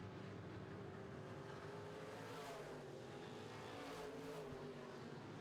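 Midwest Modified race cars roar around a dirt oval track in a feature race, a steady, distant, dense engine drone with slowly rising and falling pitch as the field runs down the back straightaway.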